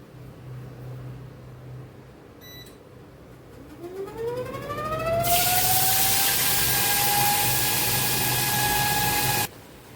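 Ground onion, ginger and green and dried chili paste hits hot tempering oil for Bengali doi katla, bursting into a loud, close, steady sizzle that holds for several seconds before cutting off abruptly.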